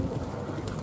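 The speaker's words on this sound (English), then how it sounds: "Yeah, they're a kind of pigeon." Pigeons cooing at a camping spot near Blackpool, a soft low burbling coo close by, continuous over a short moment with faint outdoor background and no talk.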